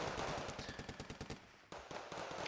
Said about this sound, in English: the heavy machine gun on it did a lot of damage to those Moschützen